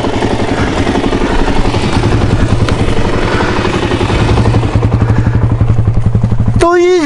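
A Suzuki LTZ400 quad bike engine held at full throttle, a loud, close, steady high-revving roar with a buzzing pulse that cuts off sharply at the end, with voices briefly audible.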